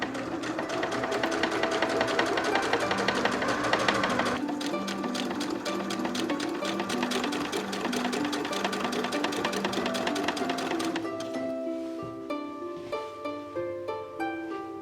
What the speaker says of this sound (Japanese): 次はスカートを縫っていこう。 ダーツを前後8箇所縫おう。